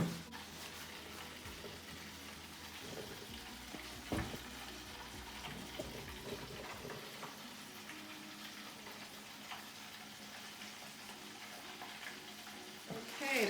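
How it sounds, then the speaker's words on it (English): Hands are washed under a running kitchen tap while chicken is prepared for a fryer, a faint, steady hiss of flowing water with soft splashes and clatter, close but quiet, with no talk. "let me wash my hands."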